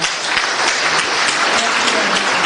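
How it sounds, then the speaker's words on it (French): Sustained applause from an audience at a cultural event in Brazzaville, Congo, a thick, even wash of many hands clapping continuously and loudly with no break. "Je voudrais ici qu'on applaudisse encore M."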